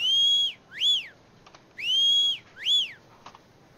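Four rising-and-falling whistle calls in the video game Dark and Light, alternating long held tones with short swooping ones, clear and fairly loud over a quiet background, with a couple of faint clicks between.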